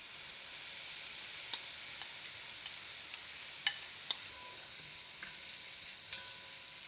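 Cooked mung beans stirred gently into a Kerala banana blossom stir-fry in a pan over low heat, a steady soft sizzle with sparse light scrapes and taps of the spoon.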